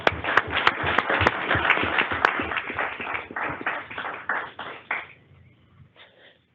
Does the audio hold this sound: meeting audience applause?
yes